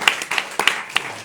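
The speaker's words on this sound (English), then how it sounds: "Clap." Rhythmic group clapping at an evening devotional gathering in Brisbane, loud and near, with hands striking together in a steady beat about three times a second over a continuous wash of other claps.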